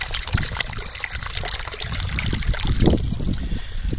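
Water trickles and gushes out of a flooded paddy field in a village during heavy rain, a close, continuous splashing flow that swells slightly toward the end.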